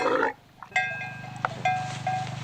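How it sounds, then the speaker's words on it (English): A camel lets out harsh, gurgling groans and bellows up close, with a rough, throaty pulsing quality. "the camel still tries to retaliate by making these horrific sounds and spitting"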